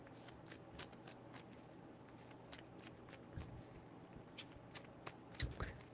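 Tarot cards are shuffled by hand in a quiet room, a run of soft rapid riffles and flicks with small taps, close and fairly faint.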